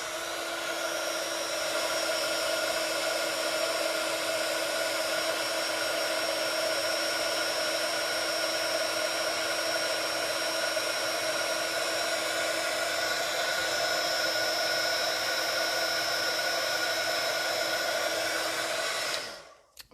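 A heat tool blows with a constant loud whirring hiss while melting embossing powder on stamped text for a Stampin' Up paper craft, running steadily for about twenty seconds before cutting off.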